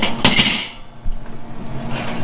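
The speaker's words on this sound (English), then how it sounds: "We're going to go ahead and put this grate on here." A metal grill grate is set onto a barbecue with a couple of close, sharp metallic clanks followed by quieter rattling and shifting.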